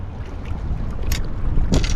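Strong wind buffets the microphone on a stormy riverbank, a steady low rumbling roar with gusty thumps, close and loud, with no talk.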